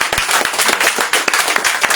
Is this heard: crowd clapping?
yes